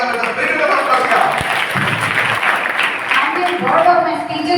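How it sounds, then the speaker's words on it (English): Audience applause welcoming a chief guest onto a dais, continuous loud clapping mixed with crowd murmur and voices throughout. "So let us all welcome with a big round of applause."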